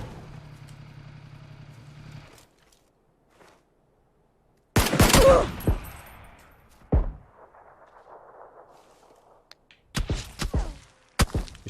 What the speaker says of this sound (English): He's shooting my back.